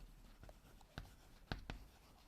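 Chalk or marker strokes on a board during a Class 11 botany lesson on transport in plants: a few short, quiet taps and scratches spaced out over about two seconds, with no talking.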